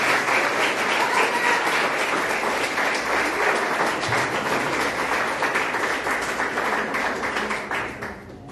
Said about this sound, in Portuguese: Uma salva de palmas pela vida do pastor